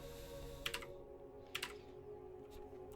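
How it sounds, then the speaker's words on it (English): Mechanical keyboard keys pressed in two quick bursts of sharp, close clicks, each a pair of taps, over a faint steady hum. "You can probably actually hear it because I have a mechanical keyboard."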